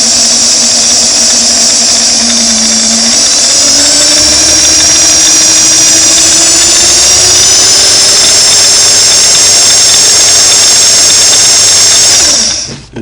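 A Singer Model 413 sewing machine runs after a timing belt replacement, a loud steady motor whine with slight belt vibration that rises gradually in pitch before cutting off abruptly at the end.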